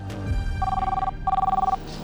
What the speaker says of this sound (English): Hey, you've got a phone call.